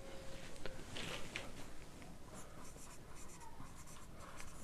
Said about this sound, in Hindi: अब हम रेंज का फार्मूला लिखते हैं